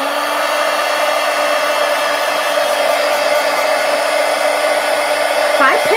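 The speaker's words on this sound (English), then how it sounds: "let me get my heat gun and let's dry this one" A heat gun blows steadily as it dries a freshly painted mixed media artwork, a constant loud airy whoosh with a low hum running unbroken for six seconds, with a brief shift near the end.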